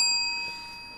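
A bell is struck once to celebrate a trading card hit during a card-breaking session, its clear metallic ring sounding close and then slowly fading over the following second.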